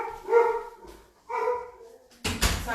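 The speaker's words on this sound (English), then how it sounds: "hang on one second, my dog" A pet dog at home gives a few spaced, moderately loud barks and whines in the background, followed by a louder rustling or thumping noise near the end.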